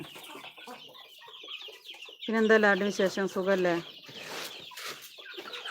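Chickens cluck close by, with a burst of loud, tonal calling in the middle, while someone talks over them.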